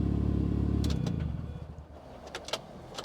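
A 1.6 L supercharged inline-4 car engine idles steadily, then shuts off after about a second, its hum dying away into quiet with a few faint clicks and clatters.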